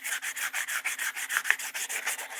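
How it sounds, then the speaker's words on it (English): Wet sanding the plastic case of an old Chicago Electric drill by hand: steady back-and-forth rubbing strokes in a quick regular rhythm, close and clear, with no voices. "we're gonna wet sand the whole thing"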